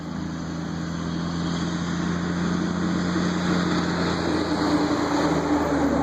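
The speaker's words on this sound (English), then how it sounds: "A big truck coming by. See how loud this guy is." A big, loud truck rumbles past outdoors, a steady low engine drone holding for several seconds and swelling slightly as it draws nearer.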